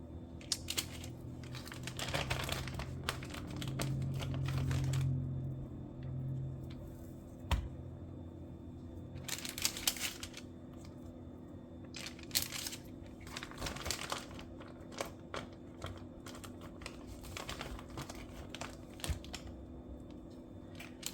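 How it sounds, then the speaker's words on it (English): Five or six strips of raw bacon are laid onto parchment paper, giving repeated crinkling paper rustles and soft slaps in bursts, close and fairly quiet. "So what I'm going to do is I'm going to line my bacon on this parchment paper."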